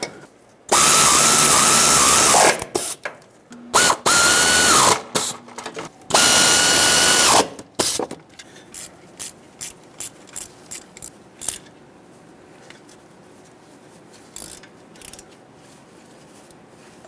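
Ratchet tightening exhaust manifold bolts on a Ram 2500 with a 6.4L HEMI, three loud sustained bursts of tool noise followed by a series of short, sharp ratcheting clicks.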